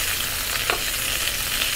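Cauliflower fries in a pan with sliced onion, giving a steady, close hiss and crackle of sizzling oil, broken once by a brief stir.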